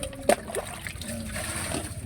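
A weak trickle of tap water runs with a soft, steady splatter and a brief splash near the start, close by and with no speech.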